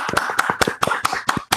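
A small group at a hackerspace annual meeting claps for departing board members: close, sharp, fairly regular hand claps with no talking.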